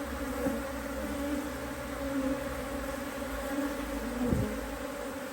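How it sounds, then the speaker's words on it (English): Honey bees swarm around an open hive in a continuous close drone, with a couple of brief louder passes as individual bees fly near. "there's lots of frames of bees"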